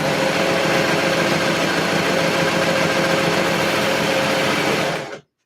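A sewing machine stitches a skort seam in one loud, continuous run of fast, even whirring, close and unbroken until it stops abruptly at the end.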